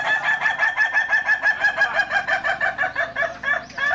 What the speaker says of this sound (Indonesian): Wah, di sini ada ayam.